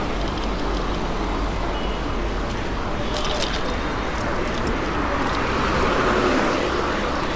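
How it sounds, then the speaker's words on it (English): Steady car traffic rolls along Malad Link Road at 2 a.m., a continuous loud roadway roar from nearby vehicles with a brief burst of higher rattling partway through and no lull. "still a lot of cars on the road at Malad Link Road"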